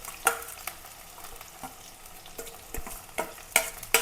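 Crushed onion, garlic and ginger fry in a pan for a Kerala fish curry, a continuous soft sizzle broken by sharp scraping stirs at irregular intervals, close and without talk.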